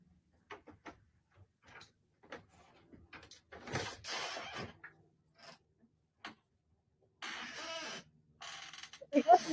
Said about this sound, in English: The cat just opened the door.